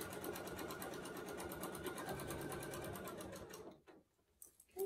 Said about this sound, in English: we'll just finish up this line and just keep sewing